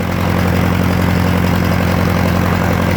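A 1966 John Deere tractor's engine runs close by, loud and steady with an even low throb and no pauses.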